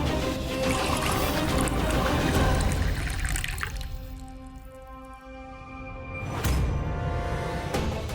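Water pours into a glass indoors during a tense domestic drama scene, a steady broadband splash that fades midway, leaving faint tonal background hum, then a second burst of liquid sound near the end.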